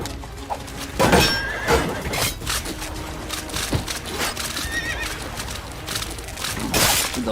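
Horse neighing in the Hellsplit Arena video game, with a loud whinny near the start and another toward the end, over a busy bed of clattering combat and wooden crunching noises.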